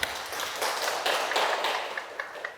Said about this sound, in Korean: 영광의 하나님께 우리 박수 한번 쳐드립시다